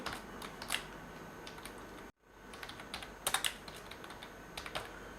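Computer keyboard typing Java code in the Eclipse editor, a quick run of clicky keystrokes in irregular bursts, close and moderately loud, with a brief gap of silence midway.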